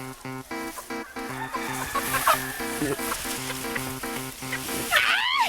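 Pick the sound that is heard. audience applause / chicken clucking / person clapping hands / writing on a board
chicken clucking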